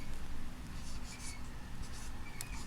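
Chalk or pen scratching out a single word on a board during a Hindi grammar lesson, a few short soft bursts of scraping over a low steady room hum, fairly faint with no talking.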